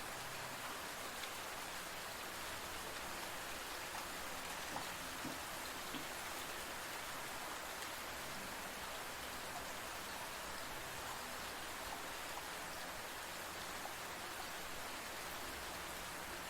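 Steady rain falls in an even, soft hiss with no breaks, faint and distant, no voices present.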